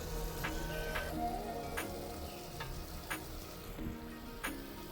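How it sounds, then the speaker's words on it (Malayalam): Fish peera sizzles gently in a pan after raw coconut oil is poured over it, a soft crackling hiss broken by occasional light clicks of a utensil, close but fairly quiet. "നമുക്ക് ഇനി ഇതിൻ്റെ മുകളിൽ കുറച്ച് പച്ച വെളിച്ചെണ്ണ ഒഴിച്ചു കൊടുക്കട്ടോ"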